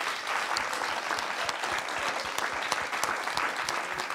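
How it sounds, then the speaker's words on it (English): Audience at a live evening panel discussion on insects gives steady, dense applause for the whole stretch, many hands clapping close together with no talk over it. "Please give a warm round of applause."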